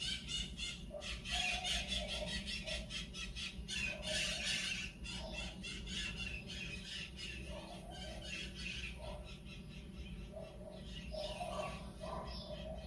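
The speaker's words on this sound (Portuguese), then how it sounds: "é tão bonitinhas as araras nesse horário." Macaws squawk repeatedly in bursts outdoors, calls rising and falling over a steady background din, fairly distant and moderate in level, with no talk.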